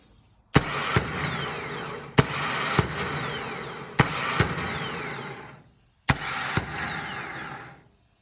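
A Mercruiser 3.0 135hp starter motor, bench-tested off a car battery with a jumper wire, whirs loudly in four separate bursts. Each burst starts with a sharp click and spins down within about 1.5 seconds. The pinion barely extends.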